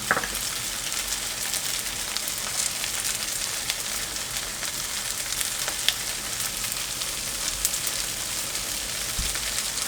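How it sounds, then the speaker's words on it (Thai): An egg frying over high heat in a wok alongside glass noodles, giving a steady, close sizzle with faint crackles throughout and no talk. "เลี้ยงไฟแรงๆหน่อยแล้วก็ใส่ไข่ลงไปตรงกลางครับผม"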